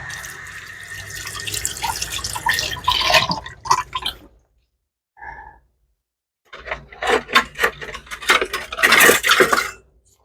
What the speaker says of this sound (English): Wash my glove.